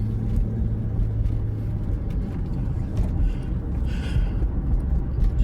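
A car driving along a road, with a continuous low rumble of engine and road noise and a faint steady hum, moderately loud and without speech.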